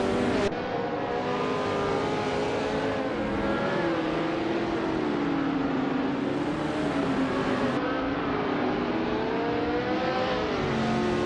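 A 1969 Legrand Mark 11 race car in a racing game roars continuously and loudly, its engine pitch rising and falling through gear changes and revs with no break and no talk over it.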